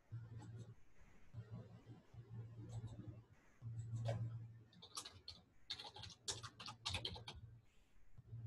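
Keywords typed on a computer keyboard during a library catalog search, heard as bursts of close, quick key clicks over a steady low hum and faint room noise.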